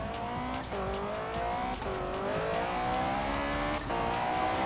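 Heavily modified Mini tuned to 700 horsepower racing in Forza Horizon 3, its engine roaring loud and close with rising, shifting pitch, brief dips at gear changes and a faint tire squeal.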